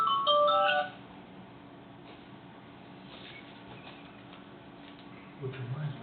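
A phone ringtone plays a short, bright melodic chime of a few quick tones, then cuts off, leaving a quiet room with faint low background noise and a brief muffled sound near the end.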